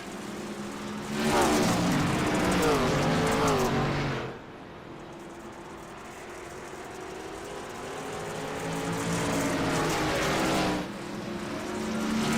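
Race cars circle Knoxville Raceway's dirt oval in a sim racing game, engines roaring and revving loudly as a pack sweeps past, fading between bursts, with the drone swelling again toward the end.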